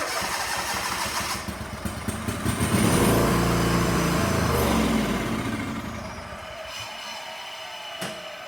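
A John Deere mower engine with a gummed-up carburetor cranks and catches on ether, a loud rough rumble that swells mid-clip and fades back without settling into a steady run.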